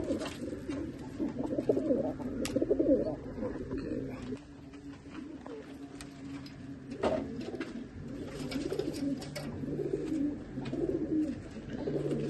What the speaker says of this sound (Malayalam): ഈ ഒരു പ്രാവ് അല്ലേ? ഈ പ്രാവ്